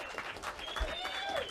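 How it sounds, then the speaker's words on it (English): Studio audience cheering and applauding Captain Lou Albano on a TNT wrestling talk show, a steady dense roar of clapping and shouts with a few whistles over the full stretch. "Why is the studio audience cheering Captain Albano?"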